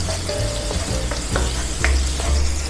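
Onion sautéing in hot cooking oil, a steady close sizzle and crackle with a few stirring scrapes, no talk.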